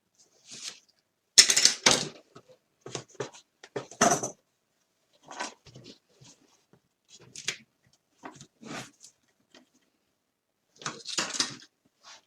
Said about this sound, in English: I've got myself a little serrated knife and I am just going to cut